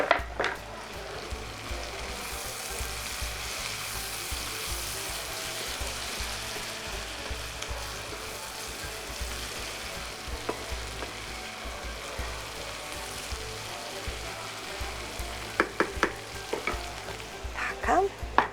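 Young onions fry in a pan, stewing in their own vegetable juices, with a steady, close sizzle throughout and a few sharp stirring clinks near the end.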